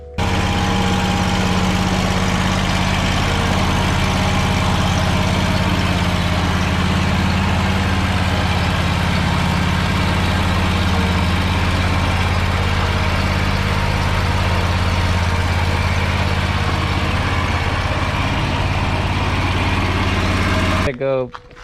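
A lawn mower engine fitted with a new carburetor runs loud and steady at close range with a strong low hum, then cuts off abruptly near the end.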